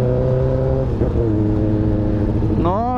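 A Honda Hornet motorcycle engine runs steadily while being ridden, with a loud, continuous drone and revs that climb sharply near the end.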